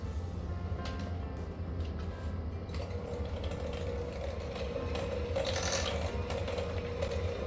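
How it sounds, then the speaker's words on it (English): A whisk beats butter in a bowl for a white velvet cake, giving a steady, continuous scraping and clicking churn that runs close and fairly loud throughout. "And I'm going to use my whisk"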